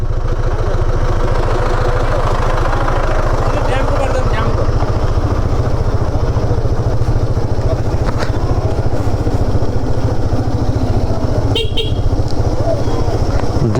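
Motorcycles idle in a traffic jam on a flood-damaged road toward Kulekhani, Nepal, with a loud, steady low engine throb throughout and occasional short horn toots, under a voice speaking.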